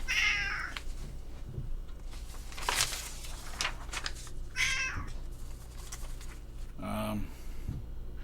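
A house cat meows several times in short separate calls, near and fairly clear, spread across a quiet indoor room with low background hum.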